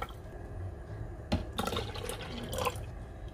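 Milk pours into cake batter in a blender, a soft close trickle and splash of liquid with a few brief louder gurgles.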